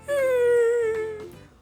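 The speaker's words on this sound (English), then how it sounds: "beside the bog stood a dog who was howling" A dog beside a squelchy bog gives a single long, close, mournful howl that slowly sinks in pitch and fades out, heard alone.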